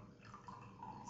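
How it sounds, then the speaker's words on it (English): Muddy water poured gently off its settled sediment into another container, a soft, steady trickle that stays faint and continuous for about a second with no talking. "I will pour only this muddy water into the another container"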